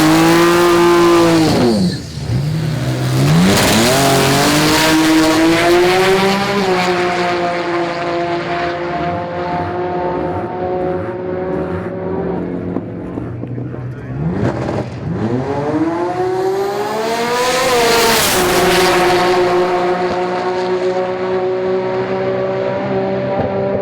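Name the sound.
Nissan R32 GTR twin-turbo drag car racing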